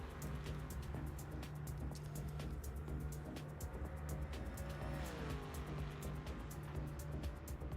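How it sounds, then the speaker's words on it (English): Steady racing car engine drone with a shifting pitch, continuous and moderately close, no voices; external car sound from the video game Project Motor Racing. "The external car sounds are quite good."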